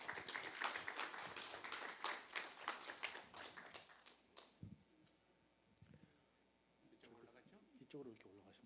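An audience at a church conference claps to welcome a pastor, a loud burst of applause for about four seconds that fades into quieter room noise and talk.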